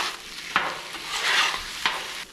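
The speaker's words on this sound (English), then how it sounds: "When all of the meat is brown, you're gonna mix everything together." A spatula scrapes and stirs browned wild game meat across a Blackstone griddle, with sharp metal scrapes over a steady sizzle, close and clear.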